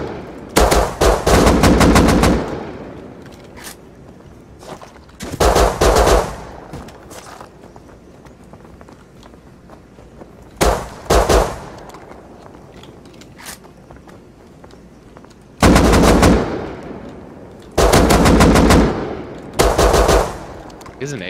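Loud bursts of automatic fire from an AK assault rifle in the survival game Rust come in about six rapid volleys with quieter gaps between them, where faint footsteps and movement can be heard.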